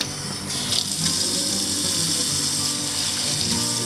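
Warm water runs from a kitchen tap into a sink or container for bread dough, a steady close splashing gush lasting throughout with slight shifts in the flow.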